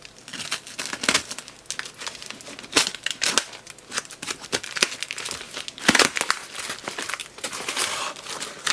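A knife slices and tears through a cardboard mail box, with crinkling packing and sharp ripping bursts coming close and loud in uneven strokes over several seconds.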